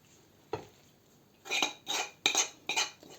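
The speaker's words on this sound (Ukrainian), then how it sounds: "Тепер ми цю натерту картоплю додаємо до гречки." Grated potato is mixed into buckwheat in a bowl with a utensil, a few short scraping and clinking stirs close by, first one isolated knock, then four quick strokes in a row.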